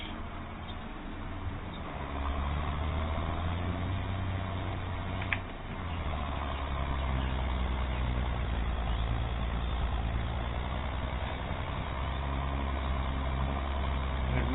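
A farm tractor carting manure labours up a slope to the fields, its low engine rumble steady and moderately loud throughout, with no voices.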